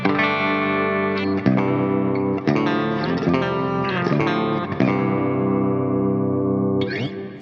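A heavily distorted electric guitar on the bridge pickup, with Fishman pickups through a Line 6 Helix metal/djent preset, plays sustained, chugging chords with rich harmonics, loud and close, with brief choppy breaks between phrases and no talking.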